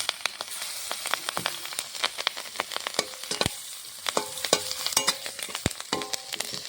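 Five-spice, bay leaf and chopped green chilli frying in oil in a pan, a crackling sizzle punctuated by repeated sharp scrapes and clicks of stirring, close and uneven, with no talking.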